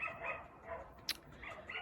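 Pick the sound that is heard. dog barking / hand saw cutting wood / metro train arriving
dog barking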